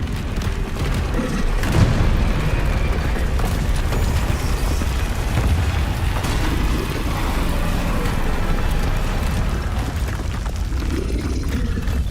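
A Confringo explosive spell in Hogwarts Legacy sets off heavy booming blasts, with a sharper burst near the start, inside a continuous rumbling roar that stays loud throughout. No one speaks.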